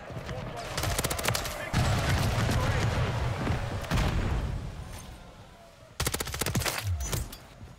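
Rapid bursts of HRM-9 submachine gun fire ring out in Call of Duty: Modern Warfare III, several clustered volleys with short gaps between them and a fresh burst near the end, alongside other game noise.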